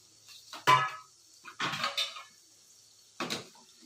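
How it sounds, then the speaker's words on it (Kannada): Cooked bottle gourd is scooped from a cooking pot onto a plate, giving three separate clinks and scrapes of metal utensils with quiet pauses between them. "ಇದನ್ನ ಒಂದು ಪ್ಲೇಟಲ್ಲಿ ಎತ್ತಿ ಇಟ್ಕೊತೀನಿ ನಾನು"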